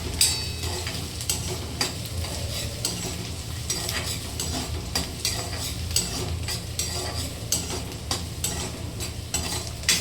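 Onions frying in hot oil for a potato bhaji, a steady close sizzle punctuated by regular sharp clinks and scrapes of a spatula against the pan, with nobody speaking.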